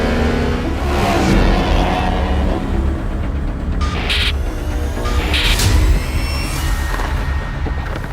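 Ducati Panigale V4 S superbike engine revving and surging at speed, a loud continuous mid-frequency roar that swells and drops with throttle changes, no voices.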